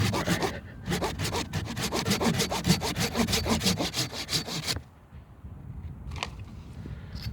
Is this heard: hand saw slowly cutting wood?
yes